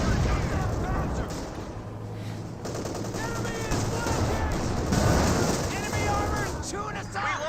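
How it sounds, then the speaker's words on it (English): Anti-tank guns fire repeatedly in a Company of Heroes 2 battle, sharp bursts scattered among rattling small-arms fire and explosions, with a commentator talking over the din. "Multiple AT gun shots there."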